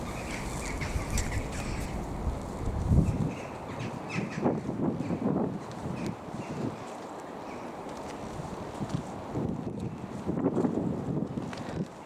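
Gusty wind buffets the microphone in rumbling bursts on a cold day at Kirkstall Abbey, Leeds, with a few faint bird calls and outdoor noise in the background.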